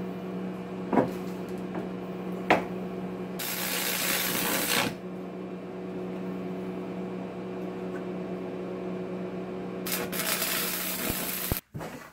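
Welding around rod dimples on a metal wine rack: two bursts of harsh crackling over a constant electrical hum, with a few knocks in between and a sharp clunk at the end.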